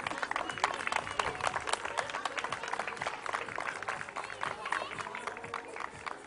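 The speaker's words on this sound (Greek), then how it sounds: "Ένα μεγάλο χειροκρότημα για τον κριτή μας." A crowd at a national dog show applauds the judge with dense, steady clapping for the whole stretch, and voices can be heard faintly under it.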